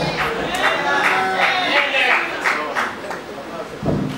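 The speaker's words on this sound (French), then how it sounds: "Merci beaucoup pour vos acclamations" An audience at a pastor's gathering claps and cheers in steady rhythmic bursts, the fairly loud acclamation mixed with voices throughout.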